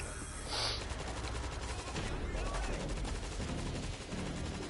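An auto turret machine gun in a video game firing steady rapid bursts, a dense continuous rattle with other game sounds layered in.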